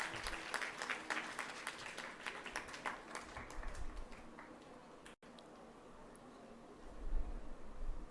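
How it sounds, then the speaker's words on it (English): Audience applause for award winners at a Model United Nations ceremony, a dense wash of many hands clapping that fades, breaks off briefly and then swells again near the end. "Can we have a huge round of applause for all the awardees?"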